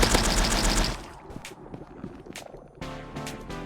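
Rapid-fire gunshots from a PixelGun3D shooting game ring out loud and dense for about a second, then give way to scattered lighter shots, clicks and effects before another burst of layered game sound closes it.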